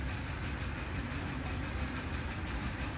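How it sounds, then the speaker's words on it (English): A train moving in the Captain of Industry video game, a steady low rumble with hiss and faint clattering running without a break, with no talk over it. "Okay, the train needs to move."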